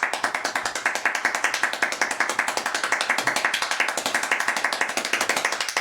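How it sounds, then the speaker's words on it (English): Very fast, steady hand clapping by one person, about 14 sharp claps per second in an unbroken loud run, close by with no voices. "I actually set the record for most claps in the minute, 721 times in 1 minute."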